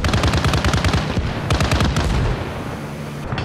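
Rapid bursts of loud automatic gunfire in the video game Arma Reforger with a sci-fi mod crackle in quick succession, then ease off into a rumbling background, with no voices.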